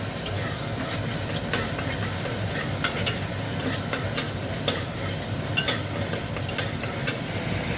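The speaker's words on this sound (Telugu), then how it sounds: "టమాటాలు, మళ్ళీ 2 నిమిషాలు బాగా కలుపుకోవాలి." Tomatoes stir-frying in a pan for vegetable biryani give a steady, close sizzle, with a spoon scraping and clinking at irregular moments throughout and no voice.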